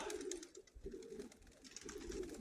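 Hardy flying pigeons coo in a loft, with soft throaty calls repeating in a steady loose rhythm, close and fairly clear over a faint background hiss.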